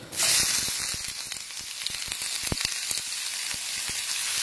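Three cloves' worth of garlic dropped into hot fat in a pan bursts into loud sizzling, then settles into a steady frying hiss dotted with sharp crackles and pops.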